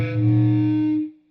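Electric guitar chord played through a heavily distorted pedal with a built-in noise gate, ringing loud and sustained for about a second before the gate cuts it to near silence, followed by a brief faint pluck.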